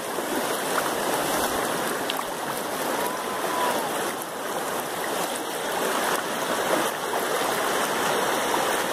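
A creek in spate after rains at Riacho do Tigre, Solonópole, Ceará, Brazil, running full with a steady, broad rushing roar that stays loud and unbroken throughout, with no voices heard.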